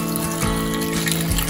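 Salt-water brine pours into a container of hot sauce ingredients set up for fermenting, a continuous close splashing trickle lasting throughout.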